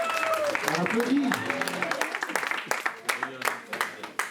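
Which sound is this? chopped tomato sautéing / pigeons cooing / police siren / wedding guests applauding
wedding guests applauding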